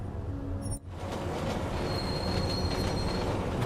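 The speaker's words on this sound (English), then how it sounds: "It looks like we're just gonna stand on the train while it loads." A train ride in the video game Deus Ex Mankind Divided: a steady, loud rumble of rolling railcars with squealing wheels, broken by a brief dip in sound near the start.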